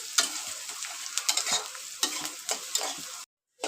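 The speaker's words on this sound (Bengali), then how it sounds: "দেখো, আমি লাল করে ভাজছি।" Onions frying to a reddish brown in a pan for masoor lentil dal with moringa leaves, stirred with repeated close scraping strokes over a steady sizzle, with a brief silent gap near the end.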